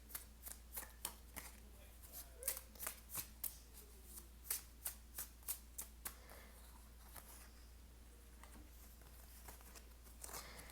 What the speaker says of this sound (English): I'm going to grab just 2 more cards from this deck